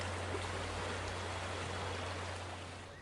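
The Reka River flows through the Škocjan karst caves in Slovenia, heard as a steady, dense rushing of water with a constant low hum, filling the space evenly and easing slightly at the end.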